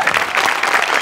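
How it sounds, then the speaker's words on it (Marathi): A studio audience at a Marathi comedy show claps loudly and steadily, a brief, dense burst of applause from the crowd. "आर्ट डिपार्टमेंटसाठी एकदा जोरात टाळ्या वाजवूया."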